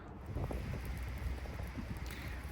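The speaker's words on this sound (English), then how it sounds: "there's been nothing to break the wind. And it's just been kind of relentless" Relentless wind blows steadily across an open hilltop knob at a truck campsite, a continuous loud broadband rush with gusty buffeting against the microphone and no sheltering break.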